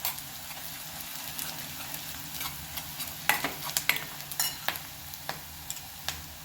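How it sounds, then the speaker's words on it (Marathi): Onion and curry leaves fry in a pan for jowar-flour ukadpendi, a steady close sizzle broken by a run of sharp spatula scrapes and clicks from the stirring, with no voices. "कांदा छान परतला, त्यामध्ये आता आपण कढीपत्ता घालून घ्यायचा"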